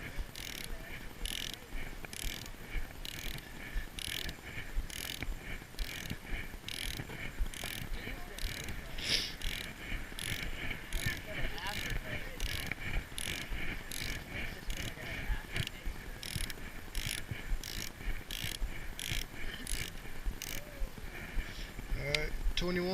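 A torque wrench clicks as rod bearing bolts are tightened on a Nissan G35 engine, giving a steady run of sharp metallic ratcheting clicks throughout, close to the microphone over workshop background noise.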